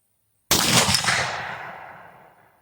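One loud 8mm Mauser rifle shot fired with cast bullets outdoors: a sudden sharp crack after a moment of silence, followed by a long rolling echo that fades away over about two seconds.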